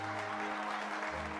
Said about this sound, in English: Everyone's clapping, we're all happy.